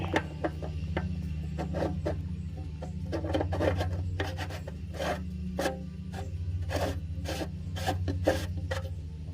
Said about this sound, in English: Go ahead and reinsert that drain plug.